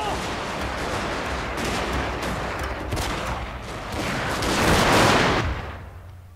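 Massed gunfire rattles through a samurai battle video game, dense overlapping volleys building to a loud swell before fading, with faint shouting underneath.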